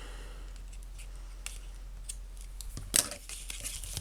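Scissors snip the loose end of string on a Halloween craft, with faint scattered handling noises leading to one sharp close cut.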